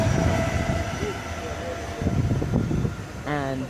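A Southeastern Class 465 electric train rumbles and whines at Bromley South station, a close, steady rolling drone with a rising electric motor tone near the end, and a person talking over it.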